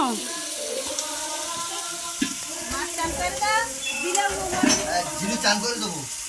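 Potatoes fry in a pan with a steady, loud sizzle, overlaid by scraping and clattering from stirring, with a voice briefly heard in the background.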